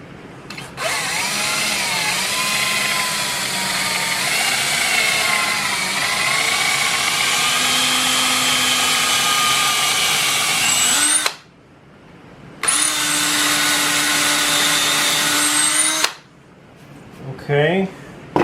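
A power drill bores a hole for a beaver mount, whining loudly and steadily for about eleven seconds, pausing, then running again briefly before stopping, with faint handling noises at the end.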